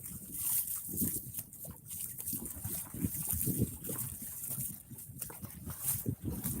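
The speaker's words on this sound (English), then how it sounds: "I'm just gonna walk through the water." Feet wade steadily through shallow sea water along a rocky shore in Saipan, giving continuous close splashing and sloshing with a trickling wash and a bright hiss of surf or wind behind it.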